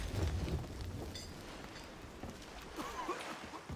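Steady rain and a low rumble of thunder fill a stormy scene in the pirate game Sea of Thieves, with the downpour hissing continuously and deep booms rolling underneath, no voices over it.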